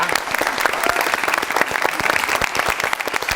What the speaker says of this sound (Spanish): yo creo que el estudiante se gana un aplauso